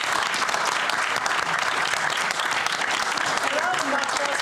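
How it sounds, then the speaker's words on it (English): A seated audience at a literary reading of women's personal stories in Wales breaks into steady, dense applause, many hands clapping continuously at close range for the whole stretch, with a few voices faintly audible underneath. "Give a round of applause."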